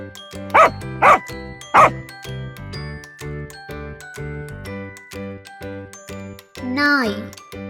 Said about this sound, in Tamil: நாய்